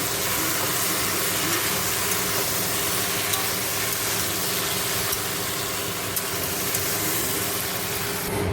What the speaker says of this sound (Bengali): ভেন্ডি, পটল, কাঁকরোল, টমেটো লঙ্কাও দিয়েছি, দিয়ে কষছি